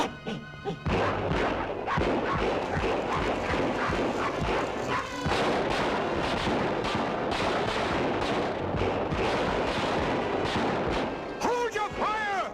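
Gunfire crackles almost continuously through a jungle fight scene in a 1952 adventure film, dense volleys of shots with crashes and shouting voices mixed in, loud and close, briefly easing near the end.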